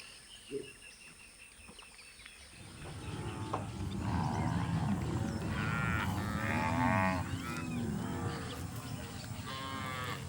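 Cattle in flooded Amazonian marshland moo in long, repeated, drawn-out calls, fairly near and loud, with birds calling faintly in the wet outdoor background.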